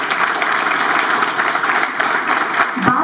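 An audience applauding at a Guru Purnima celebration held by an Ayurvedic neuro hospital in Kota, steady sustained clapping from a crowd with some voices mixed in.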